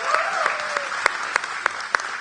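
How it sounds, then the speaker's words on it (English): An audience at a product pitch night breaks into applause, a dense and steady wash of many hands clapping with a few sharper claps rising out of it. The sound is moderately close and continues throughout. "Give them a round of applause"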